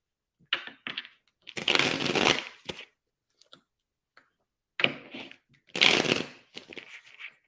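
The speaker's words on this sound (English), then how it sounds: "Come on, can't shuffle." Tarot cards are shuffled up close in several quick riffling bursts with crisp papery flutters and light clicks, separated by short silent pauses.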